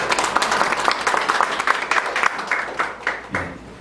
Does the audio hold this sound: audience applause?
yes